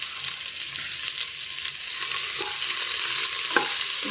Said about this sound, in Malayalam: ഫ്രൈ ആയ ഉടനെ സവാള 2 അരിഞ്ഞത് ഇട്ട് കൊടുക്കാം